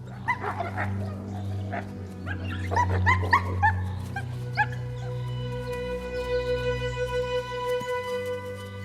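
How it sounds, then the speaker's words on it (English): A small pack of three wolves howls together in a European forest, long rising and wavering calls overlapping with yips, fairly close and layered over each other. "Wolves howl together to declare their solidarity and to identify every voice."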